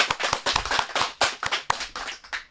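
A small group in a student podcast studio gives sharp, separate claps. The uneven patter has distinct loud hand strikes and gaps between them, close to the microphone, with no talking.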